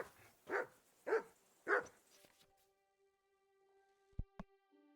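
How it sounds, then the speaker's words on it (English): A dog in the game Kingdom Come Deliverance 2 barks three times in an even rhythm, fairly close, then quiets into a low faint hum broken by a couple of short sharp knocks. "Call off that damn dog before it wolfs down the last of our mates."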